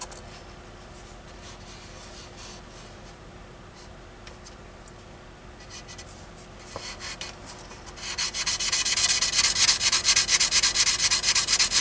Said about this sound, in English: Give that another buffing, just make certain.